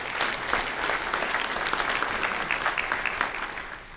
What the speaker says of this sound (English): let's give a round of applause to Dr. Whitson